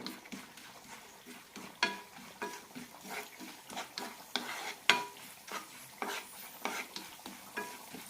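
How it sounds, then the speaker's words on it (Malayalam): Moong dal being roasted in ghee in a pan, with soft sizzling and repeated scraping stirs of a spoon against the pan, quiet and close with no talk. "ഇത് വറുത്തെടുത്ത ശേഷം പരിപ്പ് വറുത്തെടുക്കാം"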